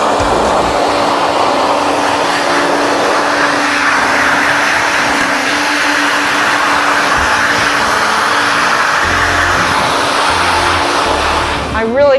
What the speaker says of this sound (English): the force dryer is not going to blow that apart